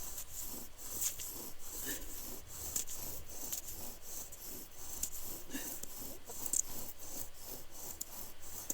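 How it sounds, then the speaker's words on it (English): Steady rhythmic rubbing and rasping of a wooden bow drill on wood in snow, a back-and-forth friction repeating about once per second, close by. "Trying not to drag snow over my bow drill ember."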